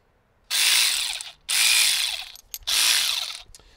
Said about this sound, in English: The same thing with the 3/8.